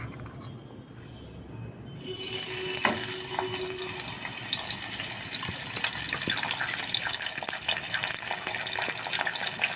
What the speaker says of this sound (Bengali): এই মাছটা লাল করে ভাজা হয়ে গেছে